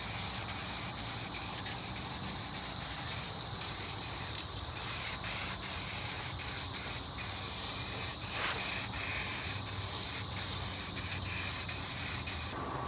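A 2K two-part clear coat hisses from an aerosol can in a long, steady spray with faint bursts and pauses, close and constant, with no talking.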